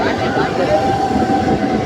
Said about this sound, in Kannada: ಟ್ರೈನ್ ಬಂತು.